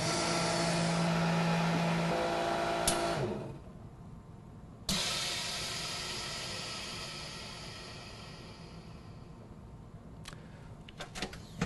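A MINIPACK vacuum sealer runs a full vacuum cycle, giving a loud, steady pump hiss that cuts off abruptly after about three seconds. A second burst follows and fades gradually, with a few short clicks near the end.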